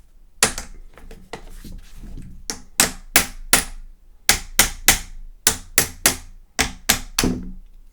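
Sharp metallic taps on an old rifle's front barrel band, fitted with a stacking swivel and bayonet lug, work it loose: irregular light knocks at first, then clear groups of two or three close, loud strikes with short pauses.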